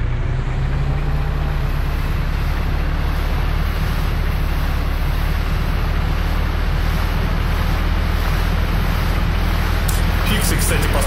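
A boat engine and crashing waves in the video game Just Cause, the first installment, make a loud, continuous rumbling wash with a steady low drone from start to finish.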